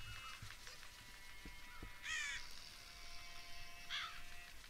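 In-game crows in Child of Light give two distinct caws, one near the two-second mark and another just before the end, over a quiet ambient music bed.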